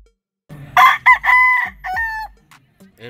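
A Golden Boy Sweater gamefowl rooster crows once loudly and close, a full drawn-out cock-a-doodle-doo with a stepped, wavering ending, followed by a faint cluck.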